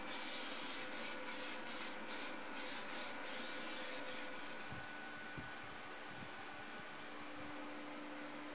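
Zinc-rich weld-through primer hisses steadily from an aerosol can onto a car body panel on a 1989 BMW E30 325i Touring under repair, a continuous close spray that carries on for about five seconds before tailing off into quieter workshop noise.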